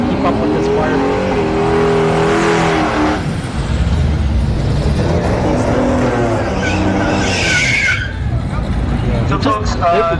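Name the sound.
Firebird drag racing car at a no-prep race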